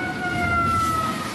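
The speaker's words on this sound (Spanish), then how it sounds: "¿Oyes las sirenas?" Sirens wailing along the coast during a tsunami warning: a sustained, steady tone held over constant background noise, distant and unbroken for the whole moment.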